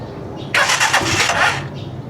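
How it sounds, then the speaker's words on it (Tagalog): A Rusi Chariot 175 motorcycle starts up close by, a sudden loud crank catching into a rough, revving engine roar that settles back down toward idle. "gaano kaganda itong ating Chariot pagka in-start"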